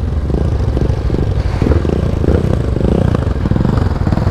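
A motorcycle engine roars loud and steady at high speed, a continuous dense drone with wind buffeting throughout.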